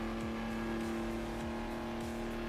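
A race car engine from the video game Hot Wheels World Race, a continuous droning hum with steady pulsing, heard alone without any talk.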